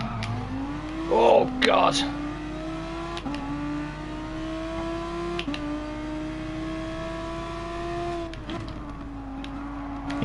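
A Porsche race car in Gran Turismo Sport holds a steady engine drone at high revs, with brief shifts in pitch. A voice speaks briefly over it near the start.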